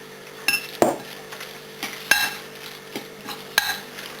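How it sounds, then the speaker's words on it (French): Tomato stuffing ingredients are mixed in a bowl, with sharp clinks and scrapes of a utensil against the bowl at irregular intervals, close and fairly quiet with no voices. "on mélange"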